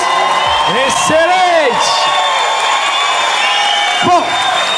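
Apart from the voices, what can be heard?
studio audience applauding and cheering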